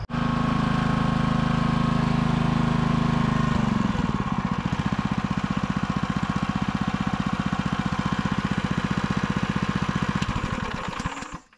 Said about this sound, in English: that was certainly fun trying out the new splitter